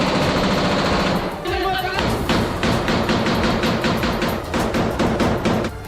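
Rapid bursts of automatic rifle fire from Israeli soldiers in a released video of an operation at Jabalia camp in Gaza, loud and repeated in quick sequences with brief pauses, with talk layered over the shots.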